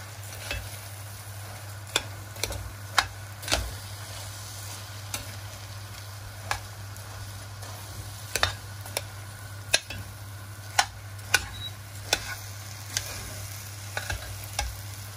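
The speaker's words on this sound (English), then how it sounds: "And then stir it into the vegetables" Pork mixture stirred into vegetables in a pan for savoury rice with hot and spicy pork, a utensil scraping and knocking against the pan in irregular clicks over a low, steady background hum, with no voices.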